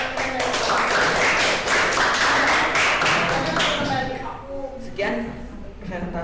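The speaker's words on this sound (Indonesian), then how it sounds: "Silakan tepuk tangan." A classroom audience claps after a student's presentation during an Indonesian teacher-training session, giving about four seconds of brisk, loud applause before a voice speaks over the fading room.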